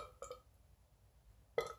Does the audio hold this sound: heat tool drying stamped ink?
no